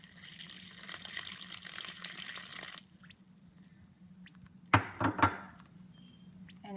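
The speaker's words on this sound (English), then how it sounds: "And last, you put in water." Water streams for a few seconds into a flour mixture for steamed mung bean dumplings, then stops; after a quiet gap come a few short clattering knocks, with no voices.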